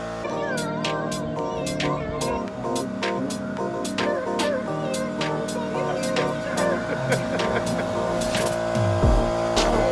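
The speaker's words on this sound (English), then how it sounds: "Sorry about the noise, but I have a pump." A steady tire air pump drones continuously with rapid clicking bursts over a busy, noisy background, fairly loud and close.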